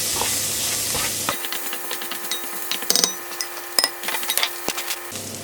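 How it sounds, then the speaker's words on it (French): Rice being stirred and sautéed in a pan for a spiced paella-style rice dish, with a steady close sizzle broken by sharp scraping stirs and clinks of the utensil. "Puis je viens y verser le riz. Pareil, que l'on fait revenir."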